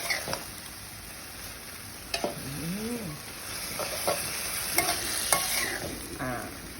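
Chicken stir-fried with holy basil in a wok, a steady moderate sizzle with repeated scraping and clinking of the spatula, plus a faint bird or rooster call partway through.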